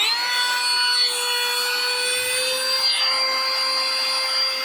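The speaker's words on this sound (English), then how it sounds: "Now we can use this as a blower." A repaired mini rechargeable vacuum cleaner with a replaced battery runs as a blower, giving a steady, loud, high motor whine that holds even throughout with no talking.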